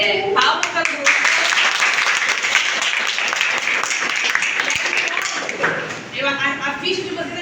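A class group in a STEM lesson gets a burst of sustained clapping from the room, with voices speaking at the start and again as the applause fades out.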